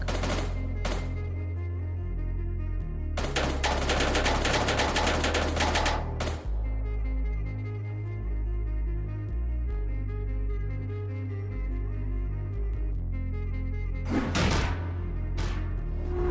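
Bursts of rapid soldier gunfire crackle in short volleys in a Captain America video game, amid game-like background music and thuds, with sharp shots punctuating the mix.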